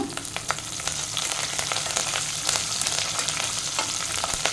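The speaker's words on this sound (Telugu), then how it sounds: "ఇందులో నేను కరివేపాకు వేస్తున్నాను" Curry leaves crackle and fry in hot oil for brinjal pulao, a steady dense sizzle with quick sharp pops scattered throughout, close and fairly loud with no voices.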